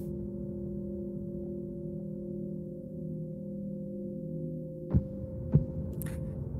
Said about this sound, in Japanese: 鼓動が聞こえるよ